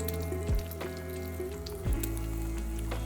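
French toast sizzles as it fries in butter in a pan, a soft steady crackle with two louder thumps as pieces are set down, close up and with no talking.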